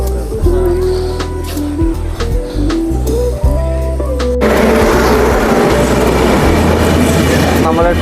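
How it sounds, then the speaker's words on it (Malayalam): A train rumbles past close by, a loud, steady roar with rattling and low mechanical drone, growing denser and noisier in the second half. "ട്രെയിനാണ് ഇതിൽ കൂടെ പോയിക്കൊണ്ടിരിക്കുന്നത്"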